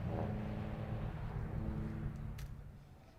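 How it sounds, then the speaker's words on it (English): A safety car accelerates on a race track toward the pit lane, a moderately distant engine tone rising then fading away over a few seconds. "the safety car accelerates its way in towards the pit lane"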